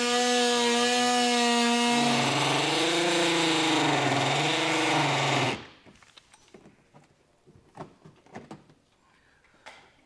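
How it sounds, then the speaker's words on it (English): Oscillating multi-tool buzzing loudly as it cuts through plastic trim during a trailer hitch install on a 2023 Kia Telluride, its pitch dipping as it bites, then stopping and giving way to scattered clicks and handling sounds. "as far as cutting, I'm using an oscillating tool or a multi-tool."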